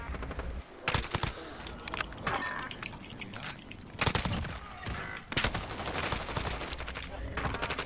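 Submachine-gun fire in an online shooter game comes in dense rapid bursts that repeat over several seconds, loud and up front, with people talking in between the bursts.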